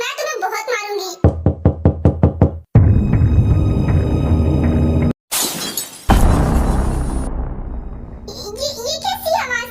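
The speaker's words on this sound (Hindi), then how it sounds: "ऐसा लग रहा है कि किसी ने विंडो का ग्लास तोड़ दिया।" Window glass being broken: a series of sharp knocks, then a loud crash and shattering with falling debris, amid dramatic music and a voice and other voices talking.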